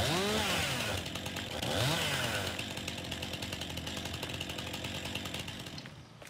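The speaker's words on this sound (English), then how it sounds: "Oh, that's black chainsaw." A black chainsaw, added as a mod in Farming Simulator 19, runs with a steady, close buzzing drone; its pitch swoops up twice in quick revs early on, then settles into a continuous whine with no talking.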